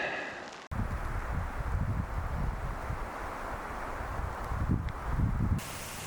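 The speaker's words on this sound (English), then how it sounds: "The wind is pretty strong yet" Strong winter wind in a snowstorm at a campsite, a loud gusting roar buffeting the microphone after a brief quiet start, with surges and rustling before it cuts off.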